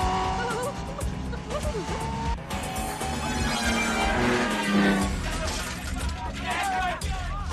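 A car drives with its tires squealing and skidding, a loud engine and screeching tire tones rising and falling over several seconds while voices speak over it.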